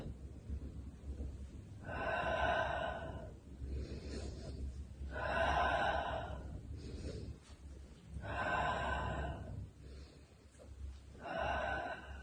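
Slow, audible breaths in and out during a beginner mat Pilates exercise, with four drawn-out inhalation or exhalation bursts in a steady rhythm, fairly close and quiet.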